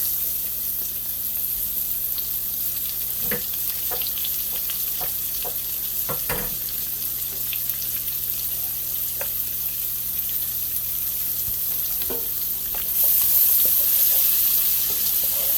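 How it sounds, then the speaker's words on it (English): Onions frying in bacon grease for Southern fried cabbage, a steady soft sizzle close by with a few clicks and scrapes of stirring, no voices. "I'm getting ready to fry those onions in that bacon grease"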